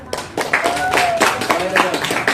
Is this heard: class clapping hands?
yes